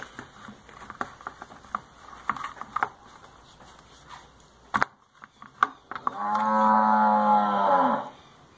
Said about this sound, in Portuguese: É uma vaca, Max.